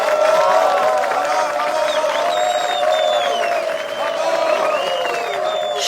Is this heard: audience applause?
yes